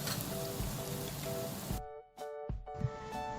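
Adai, a rice and dal dosa, sizzles steadily in oil on a low flame, a dense crackling hiss that drops out briefly partway through before resuming, with soft background music.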